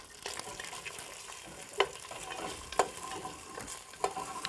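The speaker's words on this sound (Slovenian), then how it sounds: "Najprej bom čebulo malo popražil." Onion frying in a pan at the start of a chana masala sauce, a steady broadband sizzle with a few sharp clinks of stirring, close and moderately loud with no talking.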